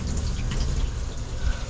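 Water sprayed onto a pickup truck bed topper to test for leaks makes a steady, close, hissing splash that continues without a break.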